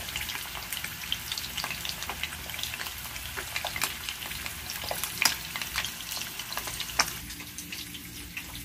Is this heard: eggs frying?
yes